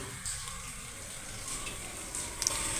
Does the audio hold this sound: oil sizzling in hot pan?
yes